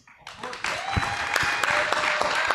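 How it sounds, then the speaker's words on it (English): Audience applause at an Inscribing Vegas 2025 event on Bitcoin Ordinals, a dense wash of clapping that swells after a brief quiet start and holds steady, with a voice speaking briefly over it. "Can I have a round of applause, please?"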